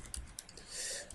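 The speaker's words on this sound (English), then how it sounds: "Hit enter. We now type James." Keys clatter on a computer keyboard in a short, quick, irregular burst of light clicks, close and fairly quiet, with no voices.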